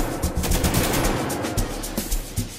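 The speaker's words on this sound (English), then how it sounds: "Let me use the AK, bro." Rapid AK rifle fire rattles in the video game GTA, with repeated bursts of sharp, punchy shots at an uneven rhythm, loud and close, with no talking.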